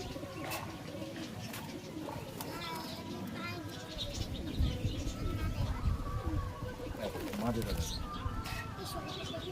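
High-flying fancy pigeons of a Chennai-line breed cooing in a loft, repeated low throaty coos under a voice talking nearby, with some other bird chirps in the background.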